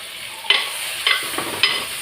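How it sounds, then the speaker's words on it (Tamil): Bitter gourd frying in oil, stirred in three distinct scraping strokes about half a second apart over a soft continuous sizzle, close and fairly loud. "இந்த எண்ணெயிலே நம்ம ஃப்ரை பண்ணிக்கணும். கொஞ்சம் கிளறி விட்டுட்டே இருக்கணும்."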